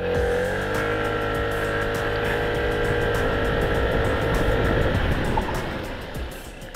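An FKM MTX 150 Hybrid motorcycle with ABS and traction control accelerates to about 60, its engine note climbing loudly and close, then fades into a rough rumble and tire noise as it brakes hard.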